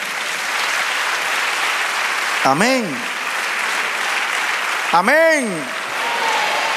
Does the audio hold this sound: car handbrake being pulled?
no